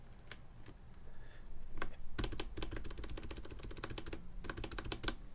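Close, crisp clacks from the enter key of a TaoBao 96-key mechanical keyboard kit with Box Navy switches, a few scattered presses followed by quick rapid bursts, with a short pause between runs.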